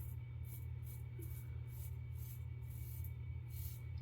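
Shaving two days of stubble with a Holy Black SR71 slant razor gives close, rhythmic scraping strokes, roughly eight short rasps repeating evenly over a steady low background hum.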